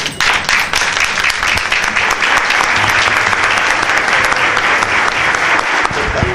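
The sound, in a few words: audience applause for a speaker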